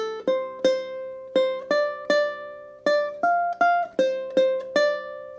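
A ukulele plays a song's solo melody without slides, clear plucked single notes in a steady rhythm, close and alone.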